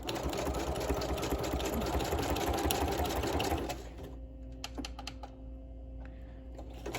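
A sewing machine runs a zigzag stitch in a steady, fast mechanical chatter, loud and close for about three and a half seconds before stopping, leaving a quiet room with a few faint clicks.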